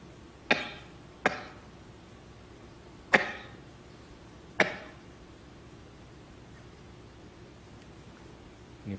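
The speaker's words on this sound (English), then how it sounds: "Don't listen to the sound of my cough," Four short, sharp coughs spaced irregularly over a few seconds, fairly close, with quiet background in between.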